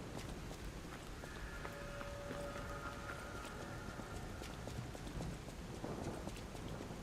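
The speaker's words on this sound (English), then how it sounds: "It's a rainy day." Steady rain falling in Lies of P, a dark soulslike game, a soft continuous patter with faint scattered ticks and a brief tonal chime in the background, fairly quiet throughout.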